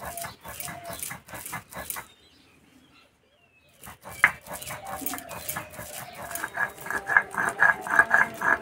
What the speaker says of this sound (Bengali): একটু এইভাবে ধরে ধরে ভালো করে বেটে নেব